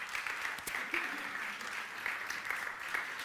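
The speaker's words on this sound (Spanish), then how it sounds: "la recibimos con un fuerte aplauso" A room of people applauding to welcome a guest onto the stage at a public discussion on the media, a moderate, even patter of claps heard from a short distance for a few seconds.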